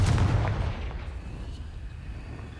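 A Confringo spell explosion in Hogwarts Legacy: one loud booming blast at the start that rumbles and fades away over the next two seconds.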